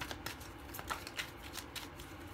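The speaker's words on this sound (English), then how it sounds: "Let's get another shuffle here." Tarot cards are shuffled by hand in a soft, steady riffling rustle close by, with small regular flicks and no speech.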